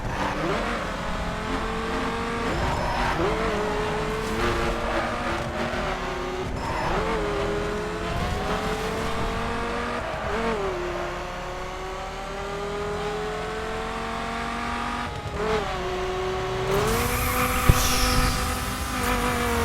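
Loud, continuous car engine revving in the racing video game The Crew, with rising and falling pitch, shifting gears repeatedly, with a brief skid-like burst near the end; no talking.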